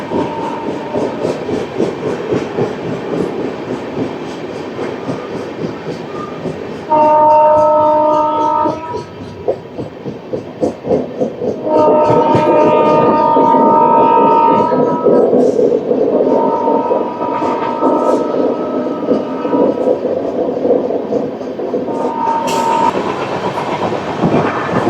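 A rumbling, rattling ride aboard the Repalle Express 17645 from Secunderabad toward Repalle as it runs through a station without stopping. Steady, loud wheel and carriage noise continues throughout, broken by several held horn blasts.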